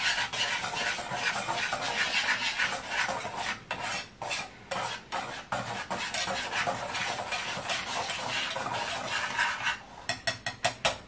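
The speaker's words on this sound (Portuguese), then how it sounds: "O açúcar baunilhado e agora envolvemos bem a seco tudo." Dry ingredients mixed with vanilla sugar for a pastel de nata tart, heard as repeated scraping and clinking of a utensil against a bowl, close by and steady, with a quick run of sharp taps near the end.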